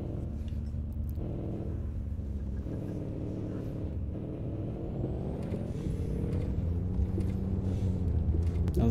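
A Nissan Titan Warrior truck accelerates off-road, its engine giving a steady, loud low rumble that swells slightly toward the end.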